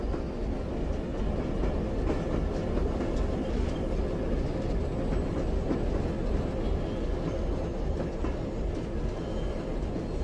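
A train rumbles steadily along rails in the survival game Zompiercer, a continuous dense low roar with faint rhythmic clatter throughout and no talking.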